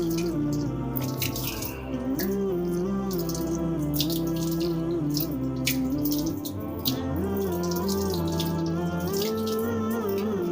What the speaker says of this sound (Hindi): अब 3 मरतबा हाथों इस अंदाज से पानी को बहाना है